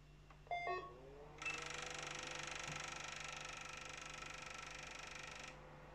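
An NEC projector with a dynamic contrast error gives a few short electronic chirps, then a steady mechanical whirring tick runs for several seconds and stops abruptly; close and fairly loud, no voices.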